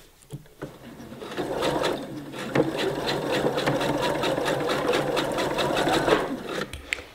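Sewing machine stitching a felt pillow cover with a zipper, a steady rapid mechanical whir with fine rhythmic needle clatter running continuously for several seconds, close and fairly loud, with no talking.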